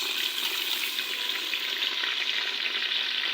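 Onions fry in ghee inside a cooking pot, a loud, dense and continuous hiss of sizzling that stays steady throughout, with no voices over it.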